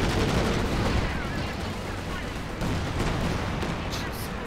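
Continuous gunfire and battle noise fill a Company of Heroes 2 multiplayer match on the Port of Hamburg map, with StuG III assault guns in the fight. Shots layer densely over a steady din while players talk.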